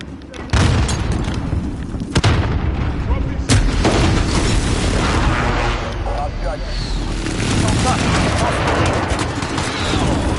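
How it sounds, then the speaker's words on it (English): Airstrike explosions in a PS4 shooter: heavy booms and rumbling blasts over continuous gunfire-like clatter, loud and dense, with voices talking throughout. "Airstrike, get down."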